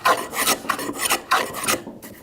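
A hand plane is pushed across wood, taking off thick, heavy shavings, making a series of quick, rhythmic rasping strokes, close and alone.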